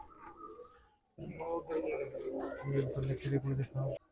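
Pigeons coo in low, repeated pulses near the end, close and fairly loud, as someone talks over them in a Punjab pigeon-keeping setup.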